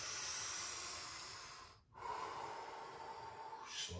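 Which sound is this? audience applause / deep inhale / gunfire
deep inhale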